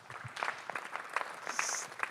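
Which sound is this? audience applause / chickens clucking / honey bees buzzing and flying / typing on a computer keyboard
audience applause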